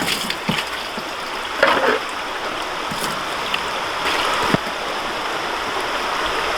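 Water washes steadily out of a tilted gold sluice in a continuous rushing stream, with a few faint knocks and splashes scattered through.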